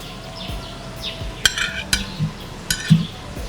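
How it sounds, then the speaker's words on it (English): Cucumber salad with lemon being stirred in a bowl in a hotel kitchen, with a few light clinks of utensil against the bowl amid soft scraping, close and fairly quiet. "You just stir."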